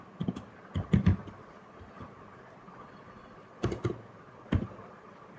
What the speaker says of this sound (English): over here you can type your name, your username and all